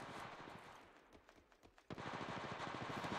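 Rapid automatic gunfire in the Apex Legends Mobile video game, dense bursts of shots at moderate distance that ease off briefly and then resume in a sustained volley, with no speech.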